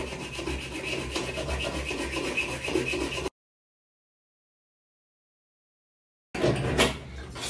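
Styrofoam pieces for a lamp are cut with a steady rasping, rubbing stroke that runs for a few seconds, then stops for a silent gap before resuming briefly.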